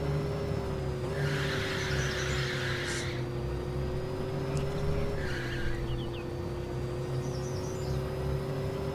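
A car launches on a quarter-mile performance run in a racing game, a steady engine drone with bursts of tire squeal near the start and again midway, continuous and fairly loud throughout.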